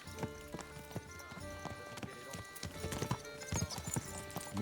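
Horse hooves clip-clop in a steady trotting rhythm in Kingdom Come: Deliverance 2, close and fairly loud over a droning game score, with no voices.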